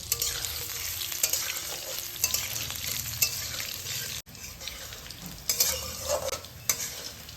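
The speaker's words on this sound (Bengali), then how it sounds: "আলুগুলোকে লাল লাল করে ভেজে নেব" Potato pieces sizzle and fry in hot oil in a home kitchen, stirred now and then with a utensil, a steady close crackle with occasional scraping and a brief cut midway.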